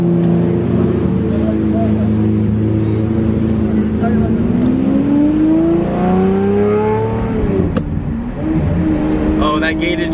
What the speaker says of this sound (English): This is not just a Lambo. This is the Lambo from Fast 8.